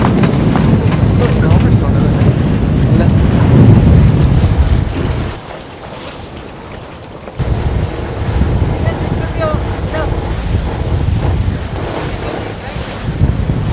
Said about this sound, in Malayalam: കാറ്റെന്ന് പറഞ്ഞാൽ ഒരു രക്ഷയില്ലാതെ കാറ്റ്